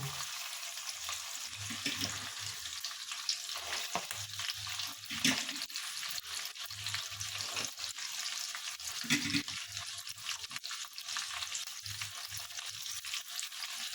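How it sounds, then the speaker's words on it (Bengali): Beans and carrots fry in hot oil, a steady moderate sizzle with faint stirring noises and a couple of louder scrapes, no talking. "এবার বিনস গাজরটা দিয়ে দেবো আমি, দিয়ে এটাকে ভেজে নেব"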